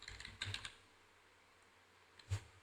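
A computer keyboard is typed on in two short bursts, a quick cluster of soft clicks followed by a single pair of taps after a pause, quiet and close with no voices.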